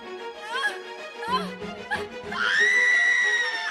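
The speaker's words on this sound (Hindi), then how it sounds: "वह दर्द से बार बार जोर जोर से चीख रही थी।" Woman screaming in pain as a horror-story effect, repeated shrill wailing cries that rise into a long sustained scream, loud and close.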